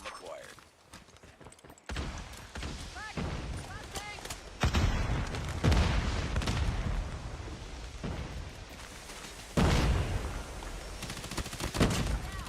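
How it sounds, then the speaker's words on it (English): Call of Duty Mobile gunfire in a World Championship esports match: repeated sharp bursts and volleys of shots, some loud and close, others more distant, mixed with game effects and voices talking over the action. "Huge gunfire from Stellify here."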